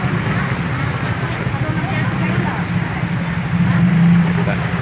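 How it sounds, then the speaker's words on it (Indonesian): Rain falls steadily in a traffic jam before a holiday during the fasting month, a dense even hiss close by with voices talking over it. "Udah hujan ya, udah banjir,"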